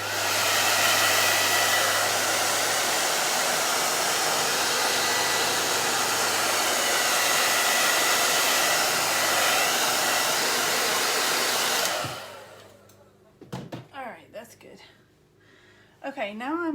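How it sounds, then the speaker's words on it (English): A hair dryer blows steadily on wet acrylic paint for about twelve seconds, a loud, constant whooshing roar, then cuts off, and a person begins talking. "I think I'm gonna have to blow dry this for a second"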